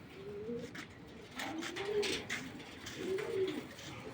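A pigeon coos three times in soft, low, rolling calls spaced about a second apart, close by against a quiet background.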